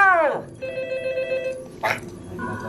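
A telephone rings during the Stitch Encounter show at Tokyo Disneyland, a bright electronic ring tone sounding twice between short voiced and sliding cartoonish sounds.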